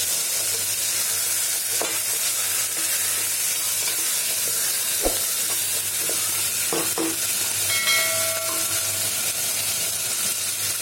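Chili flakes hissing in hot oil as a spoon stirs the pan, a steady close sizzle with scattered scraping clicks and a brief metallic tap, continuing throughout.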